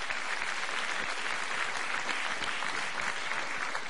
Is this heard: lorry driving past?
no